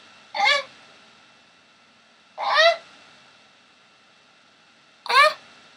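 A person imitates a sad sloth with three separate whiny, wavering nasal cries, each under a second, spaced a couple of seconds apart in a quiet room.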